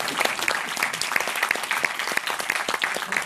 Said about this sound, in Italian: Fategli un buon applauso.